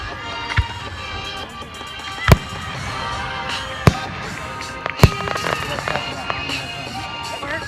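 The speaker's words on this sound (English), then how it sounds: "Okay guys, fireworks are starting." Fourth of July fireworks go off one at a time in sharp, loud bangs a second or two apart, with crackling after some of them and people talking underneath.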